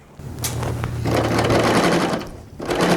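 A serger runs steadily for about two seconds stitching the inside seam of a fabric witch hat, a close continuous motor whir, then pauses briefly before starting up again.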